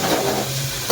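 Chopped onion and tomato drop into a hot oil tempering for rice, producing a brief, loud, close sizzle with a sharp burst at the end.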